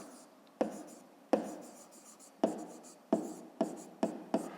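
Pen writing on paper while working a fifth-grade math exercise, sharp taps of the pen followed by soft scratching strokes, repeated about seven times, close and quiet.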